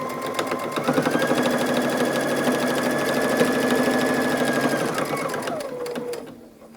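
A sewing machine runs a straight stitch to install a zipper on a shawl-collar garment, giving a steady fast mechanical whir with rapid rhythmic needle ticking for several seconds before slowing and stopping, close and loud.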